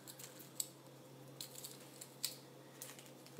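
Scissors cutting at a jewelry table, a few quiet crisp snips spaced about a second apart over a faint steady hum, with no talking.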